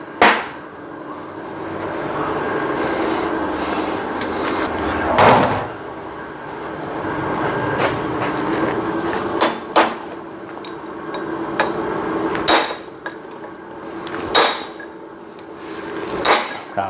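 Sharp metal hammer blows drive a wedge into the kingpin of a Ford Cargo 1721 front axle, about a dozen loud isolated strikes spaced irregularly over a low workshop hum, with no talk.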